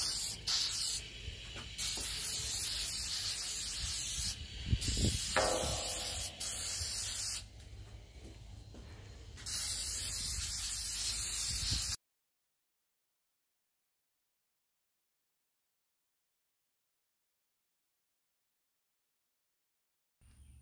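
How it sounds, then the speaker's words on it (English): An aerosol can of rust inhibitor sprays onto a metal cart in several long hissing bursts with short pauses between, close by, followed by a long silence and a brief final puff. "and I'll start spraying this one."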